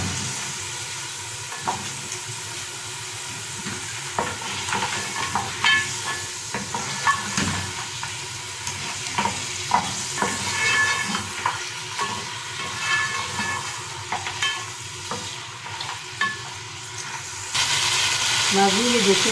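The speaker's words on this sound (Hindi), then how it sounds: "अब हम इसमें पाए डालकर भूनेंगे।" Goat trotters frying in spiced masala, sizzling steadily while a spoon stirs with repeated scraping clicks against the pot, close and continuous with no talking.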